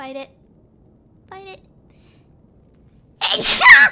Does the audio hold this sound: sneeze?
yes